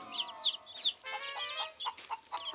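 A cartoon hen clucks in an animated children's series, a run of close, chirpy rising clucks followed by longer squawking calls and quick clucking bursts, lively and with no talking.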